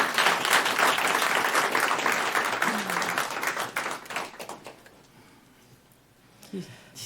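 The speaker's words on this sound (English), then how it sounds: "let's just take a moment and give them a round of applause" An audience at a community forum on homelessness gives a round of applause, with steady clapping for about four seconds before it thins out and fades into quiet room sound.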